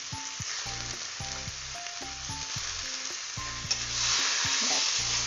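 Fried hilsa fish heads sizzle and crackle steadily in a pan of sautéing kochu greens, with stirring scrapes and a tonal melody playing in the background.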